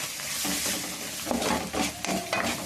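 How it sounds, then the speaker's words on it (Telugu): Ginger garlic paste sizzling in a pan while being stirred, with a steady frying hiss broken by several scraping strokes of a spoon against the pan, close up. "అది పచ్చి వాసన పోయేదాకా వేగాల్సింది"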